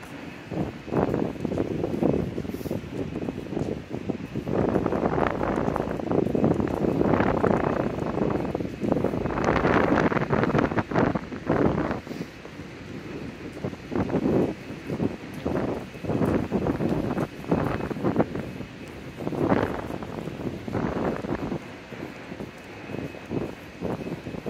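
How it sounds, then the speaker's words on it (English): Wind gusts buffet the microphone during a walk along Front Street in Toronto, from Union Station toward Bathurst, a loud, rough, fluctuating rumble that swells and fades throughout. "I can feel the wind once in a while"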